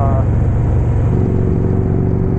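Harley Street Glide fitted with Rinehart DBX45 exhaust cruising on a road, a steady low engine rumble with a faint rise in pitch partway through, with someone talking over it.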